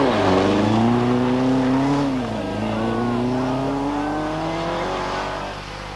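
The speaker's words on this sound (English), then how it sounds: "The Team PR Riley-backed Vauxhall has been under considerable pressure from McRae's Opel, which is now closing fast." An Opel rally car driving at speed on the 1983 Circuit of Ireland, a loud sustained engine note rising and falling through gear changes, with commentary spoken over it.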